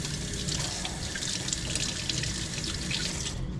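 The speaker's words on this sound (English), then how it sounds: "You can wash off the spoon real quick" Kitchen tap water runs steadily into a sink while a spoon is rinsed after making crepes, a constant close splashing hiss that continues alone throughout and cuts off at the very end.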